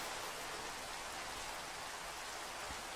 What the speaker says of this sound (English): Plus it's raining, which kind of makes it difficult.